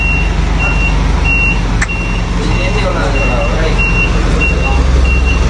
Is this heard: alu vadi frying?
no